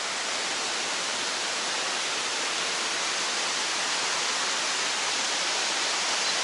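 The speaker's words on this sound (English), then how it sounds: "I'm still here at the waterfall" Kravica waterfall in Bosnia and Herzegovina roars steadily and loudly, a dense unbroken wash of falling water that never lets up, with no voices.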